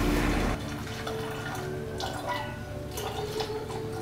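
Homemade wine pours from a soda bottle during decanting, a loud splash at first easing into a quieter, steady trickle of liquid close by.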